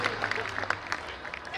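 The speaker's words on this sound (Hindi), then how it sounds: "जोरदार तालियां एक बार बेटियों के लिए" Crowd applause for the daughters at a school event at Prince Defence Academy, steady clapping from many hands sustained throughout, with a hint of voices mixed beneath.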